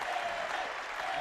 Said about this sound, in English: Crowd goes crazy.